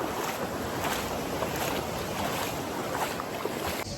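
Sea waves washing on the beach at Salou, Spain, a steady broad roar of surf mixed with blustery wind buffeting the microphone, loud and continuous with no voices.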